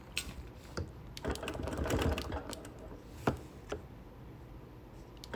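A quilting machine stitching custom quilting on a Nearly Insane sampler quilt, a rapid, rhythmic mechanical ticking with sharper clicks, close and steady, with no voices.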